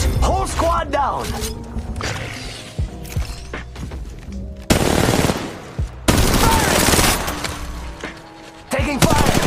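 Loud automatic gunfire and weapon handling from the mobile shooter Apex Legends Mobile, with long bursts and mechanical clicks, interspersed with in-game voice lines.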